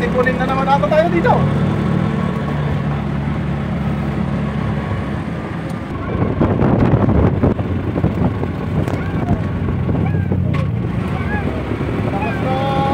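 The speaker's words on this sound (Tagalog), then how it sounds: "Lakas ng hangin." Strong wind roars steadily into the microphone with a low rumbling buffet during a tuk-tuk ride on the Villa Verde Trail, Pangasinan, and voices talk faintly beneath it.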